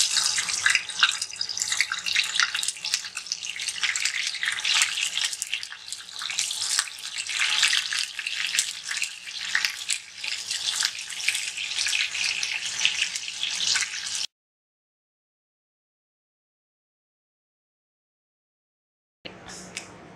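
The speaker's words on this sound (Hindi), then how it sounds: "कबाब बना लिए हैं, अब हम फ्राई करने लगे हैं। इनको आपने शैलो फ्राई करना है।" Muthi masala kebabs shallow fry in oil with a dense, close, continuous sizzle for about fourteen seconds, then near silence, and a brief sizzle returns at the end.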